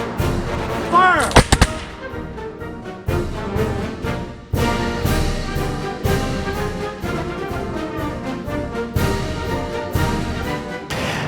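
A volley of gunfire is set off on command at a military-themed event, with sharp, loud blasts followed by sustained, echoing rumble and further bursts that carry on for several seconds.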